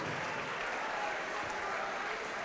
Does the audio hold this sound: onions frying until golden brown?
no